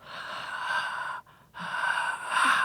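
A person imitates their own snoring with two long, breathy, rasping inhales separated by a short pause, close and fairly loud.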